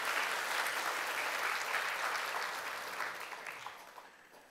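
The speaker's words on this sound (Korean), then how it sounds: "박수합시다. 환영합니다." A church congregation at Yangpyeong-dong Church claps in welcome during a Sunday service, a full, even burst of applause that holds steady and then gradually thins out toward the end.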